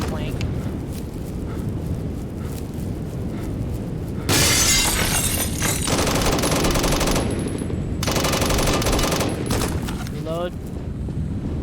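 Gunfire in the video game BRM 5, with loud bursts of rapid automatic fire and shattering impacts breaking out midway after quieter ambient noise, dense and close.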